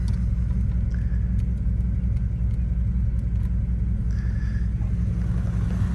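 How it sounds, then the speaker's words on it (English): A Jeep ZJ's V8 engine idles steadily and evenly throughout, a low throbbing exhaust note with faint higher ticks above it and no talking. "just quickly listen to our exhaust here. It's a nice V8 sound."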